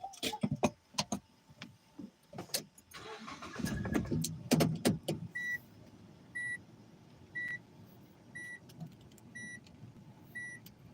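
A car engine cranks and turns over in a parked spot on a street in Japan, followed by a steady idle with a series of evenly spaced electronic beeps, heard up close.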